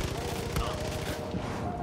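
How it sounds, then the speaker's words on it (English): Far Cry 5 gunfire during a boss fight against Jacob Seed, a rapid burst of repeated shots at an even automatic rhythm, loud and close, with a voice partly over it. "firing into the fog is probably not the most accurate way to do this"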